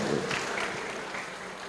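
An audience at a charity talk show breaks into applause, a dense burst of many hands clapping that starts strong and slowly thins out.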